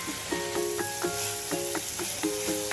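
Ridge gourd with turmeric frying in a pan gives a steady, loud, close sizzling hiss, while a repeating tonal chime-like pattern plays over it at an even pace.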